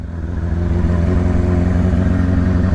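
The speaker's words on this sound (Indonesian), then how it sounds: "Jadi kita review motor si Tiar aja." A Yamaha R6 sport motorcycle engine runs steadily at close range, a loud, even idle with a throbbing low rumble and faint mechanical clatter, no voices over it.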